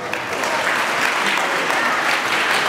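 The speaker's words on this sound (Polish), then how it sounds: "Oczywiście brawa, brawa" Sustained audience applause fills the hall at a ballroom dance competition in Jankowice near Rybnik, steady and dense throughout with no pauses.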